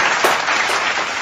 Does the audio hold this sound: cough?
no